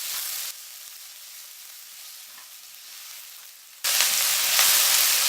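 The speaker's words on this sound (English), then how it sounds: "Once the oil is hot, we'll add our chopped onions. And mix well." Chopped onions dropped into hot oil for a pasta sauce, giving a loud, steady sizzle that jumps up partway through as the pan is stirred, close and without voices.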